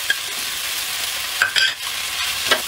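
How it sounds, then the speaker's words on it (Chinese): Cantonese-style rice noodles stir-fry over high heat in a wok, giving a continuous close sizzle with a few scraping strokes of the spatula. "把这个米粉去翻炒一下哈，可以稍微多炒一会儿，把那个水分炒干"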